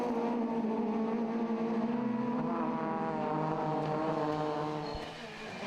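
Super1600 rallycross cars racing at Mondello, engines droning with layered harmonic tones that shift in pitch as they pass, fading slightly near the end.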